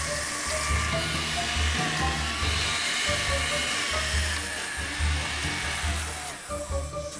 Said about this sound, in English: all you need to do here is just to blend everything into a very fine paste